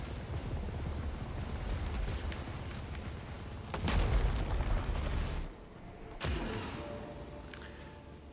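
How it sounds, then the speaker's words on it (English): Bombs go off in the sci-fi shooter Returnal: heavy booming blasts stacked over a dense, rumbling roar, with sharp bursts standing out near the middle and end. "why is this guy dropping bombs?"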